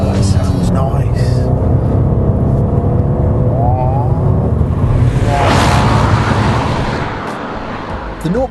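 A Chrysler Ypsilon's Fiat twin-air 0.9 litre two-cylinder turbo engine revs loudly and steadily up close, its throaty drone continuing with road roar and fading slightly near the end.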